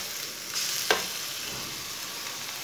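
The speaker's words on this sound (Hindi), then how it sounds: "कद्दूकस किया हुआ कद्दू डाल लेंगे" Grated pumpkin hits hot oil in a pan for halwa, producing a steady close sizzle with a sharp burst as it goes in, followed by continued frying and stirring.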